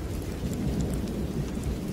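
Steady rain falls outside a small mud-walled village room, with a low rumble of thunder rolling underneath; a constant, even wash of sound with no voices.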